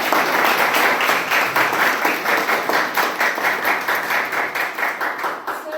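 Audience at a Toastmasters club meeting gives a round of applause, many hands clapping in a brisk, steady rhythm that gradually thins out toward the end.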